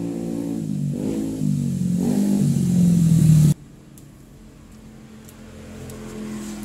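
A fuel-injected Honda Beat scooter with a sputtering, hard-starting fault runs after an ECU reset; the engine drones and climbs in pitch for a few seconds, then abruptly drops to a much quieter idle.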